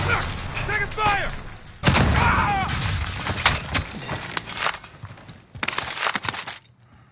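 Shotgun blasts in a first-person shooter video game, several sharp bursts between stretches of excited multiplayer voice chat, with loud overlapping shots near the end.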